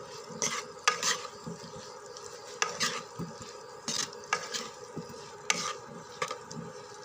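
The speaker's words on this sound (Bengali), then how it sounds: "এখন হলুদ লবণ ভালোভাবে আলুর সাথে মিশিয়ে নিব।" Potatoes being tossed with turmeric and salt in a pan, with a spoon scraping and clinking against the metal in irregular strokes, close and clear, and a faint sizzle underneath.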